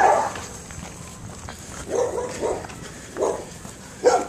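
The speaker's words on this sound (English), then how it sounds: "I'm hearing dogs." Dogs barking in the distance, a handful of separate barks spaced roughly half a second to a second apart, moderately loud over faint background noise.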